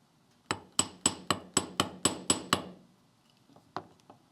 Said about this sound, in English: You can also hammer the curve of the earring wire.